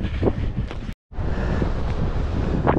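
Strong cold wind roars across a mountain summit on Helvellyn in the rain, buffeting the microphone in heavy gusts with a brief silent dropout before the blast resumes.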